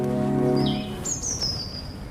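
Garden birds call in short chirps, with a couple of thin whistled notes rising over a low harmonic hum, fairly close and brief, with no talking over them.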